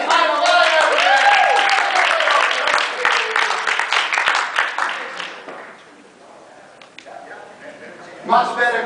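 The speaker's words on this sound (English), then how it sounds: "round of applause for Kurt behind the line over there" Audience applause for a tennis player during a doubles demonstration, a burst of clapping that fades after several seconds, followed by quieter sounds and a brief spike near the end.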